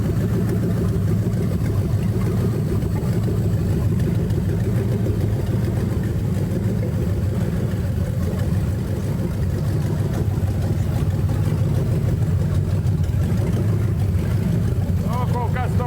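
A Mercedes-Benz V8 with no mufflers fitted runs steadily at a raised idle, its loud, rough low rumble continuous throughout with a slight rise in revs near the end, and a voice can be heard over it.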